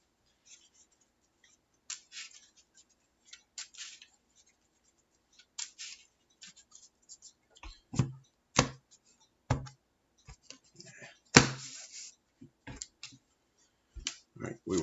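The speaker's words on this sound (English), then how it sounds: "And then shuffle our deck." Pokémon trading cards being shuffled by hand during a tabletop match, heard as soft scattered clicks and rustles that grow into louder, sharper riffling bursts near the end.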